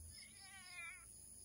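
A cat meows at night, a single drawn-out wavering cry that is close and clear against a low background rumble, with no talking.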